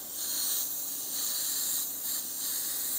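An Iwata Eclipse airbrush sprays in a steady, close hiss that dips briefly a few times between bursts, with no talking.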